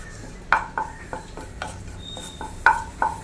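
A utensil stirs curry leaves dry roasting in a pan over a low flame, making a series of sharp metallic scrapes and clinks at an irregular rhythm over a faint background sizzle.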